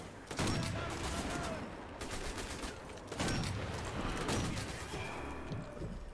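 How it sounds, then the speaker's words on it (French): Repeated sniper rifle shots in Sniper Elite V2 ring out in a steady barrage, with loud broadband blasts every second or so over a busy game battlefield background. "Et Jordan qui enchaîne les tirs"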